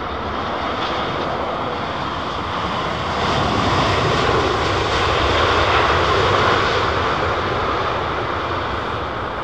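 A Boeing 787 jet airliner roars loudly and steadily at London Heathrow, close up, the broadband engine noise swelling midway and then easing slightly, with no voices.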